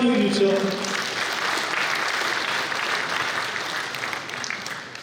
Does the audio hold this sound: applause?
yes